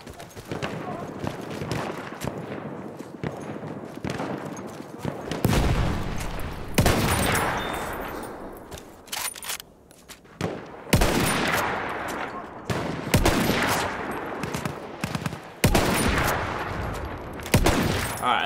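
Repeated gunfire in Battlefield 1 while sniping, with sharp loud rifle cracks spaced several seconds apart over a background of distant battle and scattered shooting; a voice talks faintly at times.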